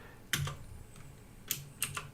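Code being typed for an R data analysis, with a few scattered bursts of key clicks close by and short pauses between them in a quiet room.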